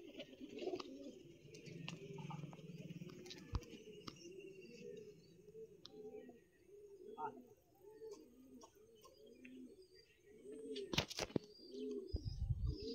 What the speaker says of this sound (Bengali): আমাদের পায়রাগুলো এইখানে আছে।